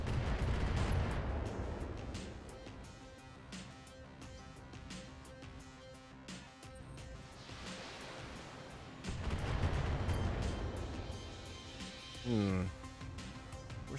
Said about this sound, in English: Guess we need some counter battery fire then.